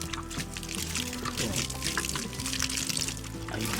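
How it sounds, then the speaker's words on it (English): Water poured by hand over a kale, spinach and cabbage seedling nursery, a steady splashing trickle that runs throughout with faint background sounds. "I managed to pour, because you can't pour like sprinkle, and I have to do it with my hand."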